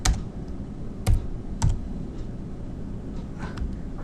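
A few sharp keystrokes on a computer keyboard while filling in a basic quiz in Excel, spaced out over a quiet room background.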